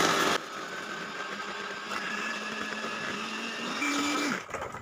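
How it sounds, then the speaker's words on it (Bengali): An electric beater whirs steadily through ice cream batter mixed with whipped cream, a continuous motor hum with a brief pitch rise near the end before it cuts off. "সমস্ত ব্যাটারটাকে আমি আবার বিট করে নিচ্ছি"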